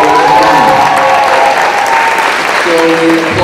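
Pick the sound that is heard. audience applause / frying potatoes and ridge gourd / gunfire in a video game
audience applause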